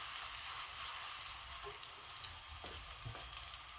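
Steady crackling sizzle of garlic frying in hot oil for mutton karahi, continuous and fairly close, with a few soft stirring knocks near the end.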